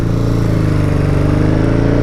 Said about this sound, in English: It sounds like a dirty bike.